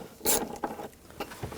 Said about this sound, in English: Using a 10mm socket, we're going to remove the hold down